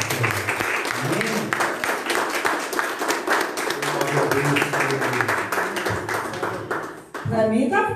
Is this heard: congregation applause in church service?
yes